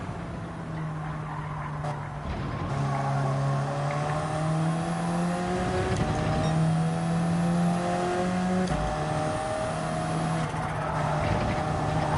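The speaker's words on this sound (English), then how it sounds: "Just using the revs, I want to keep in their slipstream." Race car engine in Gran Turismo 7 at Watkins Glen, revving hard and steadily while running in other cars' slipstream, pitch climbing and dropping through gear changes, loud and close throughout with no talk.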